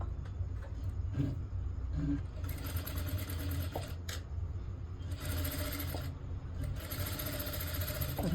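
A sewing machine stitches a blouse in steady bursts of rapid mechanical whirring, starting and stopping several times with brief pauses between runs, close and fairly quiet.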